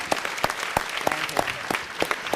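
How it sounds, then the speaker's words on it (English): A city council chamber fills with steady applause for United Way, a moderate crowd clapping continuously with a few sharper nearby claps standing out from the even wash. "let's give United Way another round of applause"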